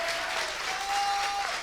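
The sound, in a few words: audience applause at KLASK World Championship final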